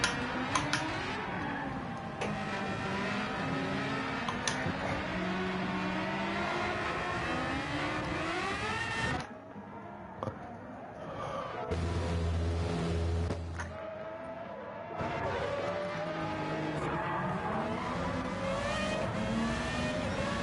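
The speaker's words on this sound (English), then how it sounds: "F1 V10 Espace engine." A Renault Espace F1 V10 engine in Gran Turismo 7 drones and revs steadily at high pitch, with a brief drop and lower idle mid-way before climbing again, no talk over it.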